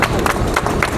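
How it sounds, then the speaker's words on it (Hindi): A crowd applauds to welcome the mayor at a tubewell foundation ceremony in Prayagraj, giving a brief burst of loud, dense clapping with some crowd noise. "आप लोग सबसे पहले जोरदार तालियों से स्वागत अभिनंदन कीजिए"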